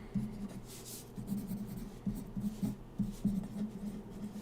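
Pen scratching on paper in short rhythmic strokes and bursts, faint and close, with small pauses between groups of strokes.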